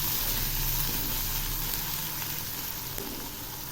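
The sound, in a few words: onions frying in oil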